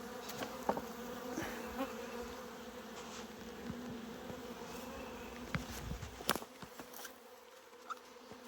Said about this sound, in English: Bees are getting flying pretty hard in the front up here